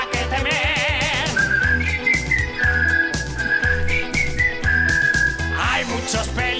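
Someone whistles a tune in long held notes with small slides, accompanied by upbeat music with a regular pulsing beat underneath.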